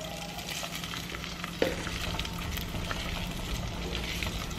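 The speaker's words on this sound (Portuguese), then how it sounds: "Agora que derreteu bem a manteiga, eu vou colocar a linguiça calabresa" Sliced calabresa sausage fries in melted butter, giving off a dense, even sizzle that holds steady throughout, with one brief clack of a utensil partway through and no voices.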